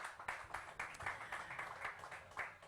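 Live audience clapping for a drummer being introduced at a band's summer concert, a steady spread of many hands with irregular louder peaks, fairly near and continuous throughout.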